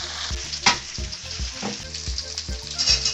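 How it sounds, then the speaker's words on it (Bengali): Masala for a malabar spinach and fish head curry sizzles hard in hot oil while a spoon stirs it, the frying hiss steady under repeated scraping strokes against the pan. "ভালো করে কষে নেব মশলাটা যাতে কাঁচা গন্ধ না বেরোয়।"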